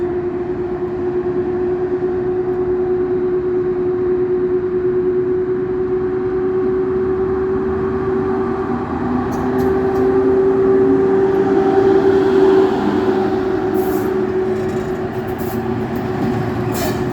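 Two electric locomotives, an EP07 and an EP09, pulling an Intercity express as it departs Warszawa Wschodnia station, giving a steady loud electric hum and rolling rumble with a sustained tone that swells slightly midway, no voices.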